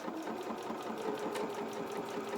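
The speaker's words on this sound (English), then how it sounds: "So just with a straight stitch, start that first stitch just 1 centimetre in from the edge" Sewing machine running a straight stay stitch near a fabric edge, a fast even rhythmic needle chatter heard close and fairly quiet, with no talk.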